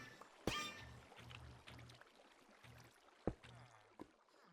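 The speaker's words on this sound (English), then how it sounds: "I'm going to put water there." In Minecraft 1.8.9, water is poured from a bucket: a sharp splash onset followed by soft trickling and bubbling, with a second splash later and a quiet low hum underneath.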